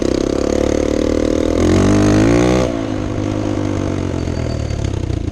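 An enduro dirt bike engine idles steadily and loudly nearby, briefly rising in pitch with a light rev before settling back to a lower idle.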